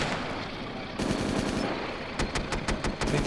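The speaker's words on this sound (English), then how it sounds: "Maybe just some of my anti-tank guns shooting into that area." Anti-tank guns firing in the tank video game Steel Fury: a continuous background roar broken by a run of sharp, rapid gunshot bursts toward the end, moderately loud and at a distance.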